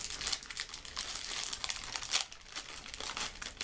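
Crinkling plastic of a cracker packet being pulled open, with steady crackling and a few sharper tearing bursts, close up and fairly quiet, with nobody talking.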